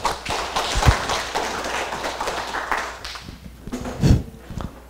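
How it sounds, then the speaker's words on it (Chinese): Audience applause welcoming a lecturer at a law class in Taiwan: a steady wash of clapping from a room full of people, moderately loud, with a few sharper claps standing out. "请大家用掌声欢迎"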